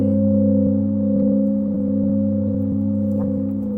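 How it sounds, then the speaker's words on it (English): A struck gong rings with steady, sustained low tones that hum and slowly fade, a long resonant wash with no voices over it. "And I did the gong sounds."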